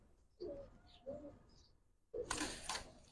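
Giribaz pigeons cooing nearby, two soft low coos followed by a louder, rougher burst with a rustling flutter, faint and close.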